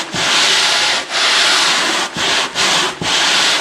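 A Velcro-backed fairing board hand-sands a curved Coosa board, loud close rasping strokes in long even passes with four brief pauses between them.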